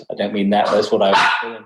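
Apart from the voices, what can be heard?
dog barking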